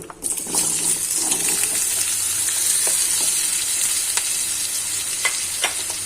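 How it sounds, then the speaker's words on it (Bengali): Potato pieces sizzle loudly and steadily in hot oil for a Bengali mochar ghonto dish, with occasional clicks of a spoon stirring the pan and no voices. "আলুটা আমি তেলে দিয়ে দিলাম।"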